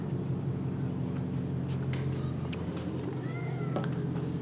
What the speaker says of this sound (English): Look, my cat is out here now.